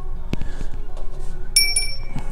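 A small Delft blue ceramic bell rings briefly in a thrift store, a few bright high chimes near the end over background store chatter and shuffling.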